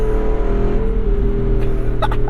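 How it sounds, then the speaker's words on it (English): A 2022 Jeep Wrangler 392 V-8 drones loudly and steadily, with a few sharp exhaust pops crackling through near the end. "on the down rev you get little pop pop, little pops and burbles"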